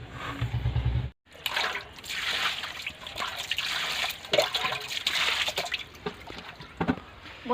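Cut batasio fish rinsed under running water, a steady close trickle and splash with shifting gurgles, briefly interrupted near the start, no talking.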